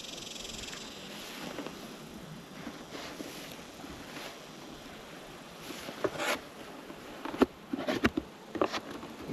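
Honeybees buzz steadily around open hives during an inspection, a close, low hum with scattered sharper clicks and knocks of hive parts near the end.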